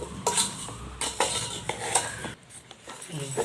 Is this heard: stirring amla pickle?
yes